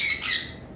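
Pair of blue-mask lovebirds giving shrill, high chirps and squawks, close and fairly loud, in a short burst with no talking.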